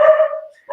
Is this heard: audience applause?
no